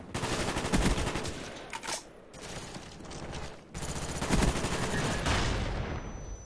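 Rapid automatic gunfire in the shooter Black Ops II, sustained bursts of loud, close shots broken by brief gaps, with no talk over it.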